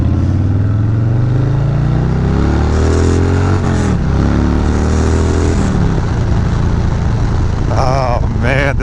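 Harley-Davidson Fat Bob motorcycle being ridden, a loud, continuous engine drone with rumbling low end and pitch rising and falling through revs and shifts, heavy wind buffeting over it and a rider's voice partly mixed in.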